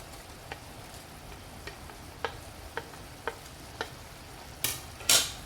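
Ilonggo-style squid adobo being stirred in a pan, with a soft steady background sizzle broken by a regular series of light utensil taps, then two louder scraping bursts at the end.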